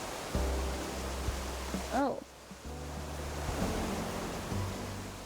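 Redirected video-game waterfalls give off a steady, broad rushing wash of falling water that runs through most of the moment, briefly cut off once. A voice exclaims over it.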